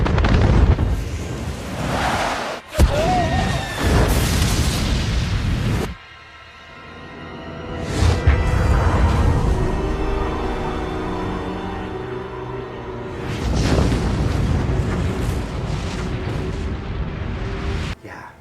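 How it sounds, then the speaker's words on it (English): Yellowstone supervolcano eruption from the disaster film 2012: huge rumbling blasts and booming roars that swell, drop into a quieter rumble with faint voices, then surge again, loud and dense with cinematic effects. "Now here's a clip from the movie 2012 where they have it explode, and it's intense."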